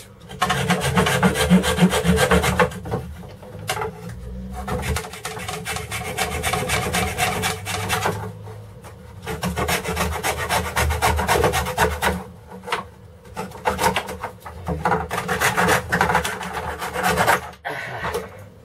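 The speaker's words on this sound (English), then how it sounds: "bamboo to make spacers, and we're going to do that with the hacksaw we discussed last week" A hacksaw cuts through short pieces of bamboo, giving loud, close rasping strokes in several bursts separated by brief pauses.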